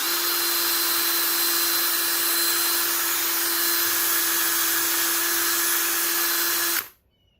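A power sander works stainless steel smooth with a steady, loud, unbroken whine for several seconds, then cuts off abruptly, leaving near silence.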